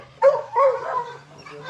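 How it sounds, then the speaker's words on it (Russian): Dogs give two quick, yipping barks close by, followed by a lower, muffled trailing sound over a faint steady hum. "тут собачки, все."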